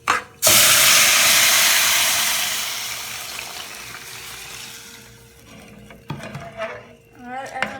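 Vermicelli and cardamom cook in hot ghee as milk goes in, starting with a loud, close hiss of steam and sizzle that fades over several seconds, then ends in clattering stirring against the pot.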